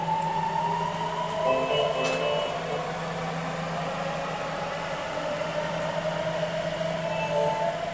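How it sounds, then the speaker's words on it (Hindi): The Delhi–Meerut rapid rail train, arrived from Sahibabad, pulls into Ghaziabad station with a steady electric hum and rolling rumble, plus a faint chime, under station ambience with no speech. "यहाँ पर ये अपनी दूसरी रैपिड रेल जो कि अभी साहिबाबाद से आई है"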